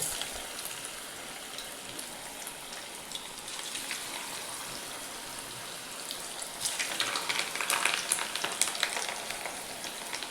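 Pieces of stale chapati fry in oil in a pan over a low gas flame, giving a steady, soft hiss of bubbling oil that crackles a little louder and denser toward the end, with no voices.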